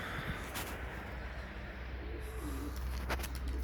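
Soft pigeon cooing in the background over a steady outdoor hum in the snow, with occasional faint rustles and taps as birds feed on the ground.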